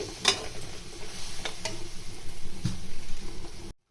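A baby corn starter being stirred in a pan with salt added: steady sizzling and frying with a few scraping stirs and clinks from a utensil, close up, then an abrupt stop.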